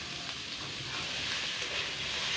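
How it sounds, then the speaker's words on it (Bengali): Fried soybean chunks tipped into masala cooking in a pan give a steady, dense sizzle of hot oil, close and unbroken throughout, with no voices over it. "এবার এর মধ্যে দিয়ে দিচ্ছি সেই ভেজে রাখা সয়াবিনগুলো।"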